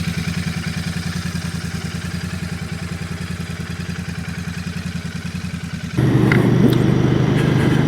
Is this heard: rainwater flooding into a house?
no